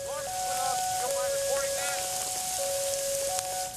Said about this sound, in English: Rain and hail pounded the springs.